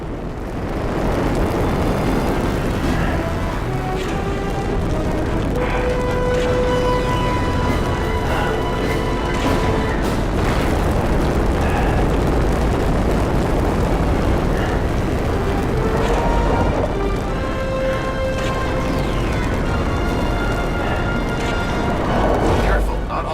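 Phaser fire blows up vents in a Star Trek video game, with dense rumbling blasts and booms layered over a constant loud roar of game action and tonal effects throughout.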